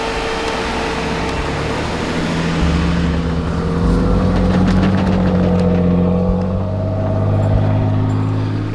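An old right-hand drive Mitsubishi Delica approaches with a loud, steady engine drone that rises and shifts in pitch as it nears, with no voices.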